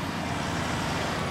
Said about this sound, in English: Great farmer's tractor.